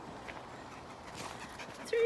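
Dogs pant and whimper on a woodland walk, soft breathy huffs and faint whines under nearby talk, ending with a short, louder tonal whimper.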